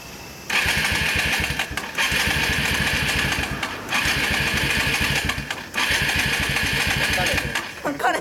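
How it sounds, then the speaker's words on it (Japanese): A Yamaha DragStar 250 motorcycle engine runs close by, its rhythmic twin-cylinder thrum rising in revs and dropping back in repeated bursts, with a voice briefly heard. "ごめん、エンジン音聞かせてもらえるかな"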